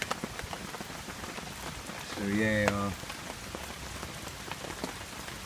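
Heavy rain pours steadily at a campsite beside a fire, a dense continuous hiss of drops on surfaces throughout, with someone briefly speaking midway.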